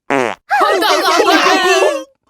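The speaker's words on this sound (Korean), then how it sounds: "바, 방귀잖아." A loud, drawn-out fart sound effect from a children's musical stage show blares close and alone, with a short burst coming just before it.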